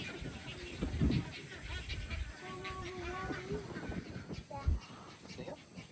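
Birds call repeatedly at a busy bird rookery full of white birds in the trees on Little Saint Simon's, a mix of honking and squawking calls near and far while people talk nearby.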